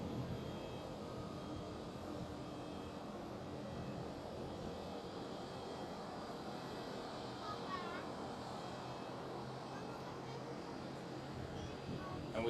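American Airlines Boeing 787-8 departing Schiphol Amsterdam, a faint, distant, steady jet engine rumble, with quiet voices talking over it.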